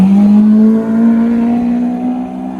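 A Lamborghini Aventador supercar engine out on a Monaco street gives a loud, steady droning roar with a strong rising tone. It holds for almost three seconds with a slight dip early on.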